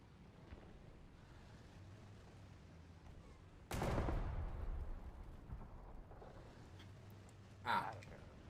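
Gunfire in the War Thunder video game, a single heavy boom with a rumbling tail breaking through a low background hiss, then a shorter thump a few seconds later.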